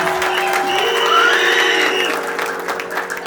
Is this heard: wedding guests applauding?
yes